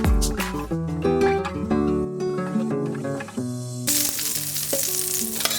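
Food sizzles and fries in a hot pan, a loud, steady close crackle that surges into a brighter, harsher hiss partway through, with no voices.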